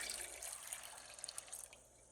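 Water, about four cups, pours into a cooking pot, a soft splashing trickle with a few drips near the end, fairly quiet and close.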